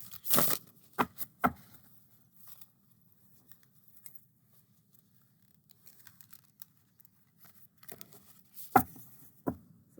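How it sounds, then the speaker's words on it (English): Crisp riffling bursts of a thin-card oracle deck being shuffled at the start and again near the end, with quiet handling between them over a low background hum. "Has a nice shuffle and slip with the traditional shuffling method."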